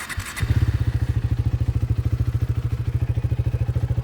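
Modified KTM Duke 390 BS6 motorcycle fires up after a brief clatter, then settles into a loud, close, steady idle with an even rapid thumping exhaust pulse and a slight bass tone.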